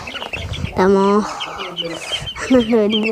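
Chicks and hens in a coop cluck and squawk in loud, bursty calls close by, with a person talking among them.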